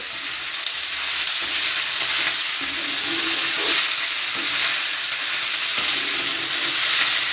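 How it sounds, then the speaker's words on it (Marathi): Poha frying in a pan while it is stirred: a loud, continuous sizzle with soft scraping strokes mixed in, heard alone without any voices. "आता हलवून घ्यायचं थोडं"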